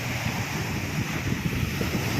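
Rough, storm-driven sea surf and strong wind buffeting the microphone near moored fishing boats during a typhoon, a steady loud roar of churning waves and gusts with no talk.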